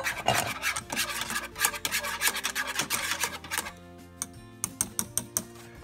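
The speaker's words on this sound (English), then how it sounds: "you want to stir this vigorously to keep the eggs from becoming scrambled at the bottom" Vigorous stirring of custard filling in a pot, a rapid rasping scrape of utensil against the pan that runs continuously, then slows into separate strokes, close and clear, with no talk.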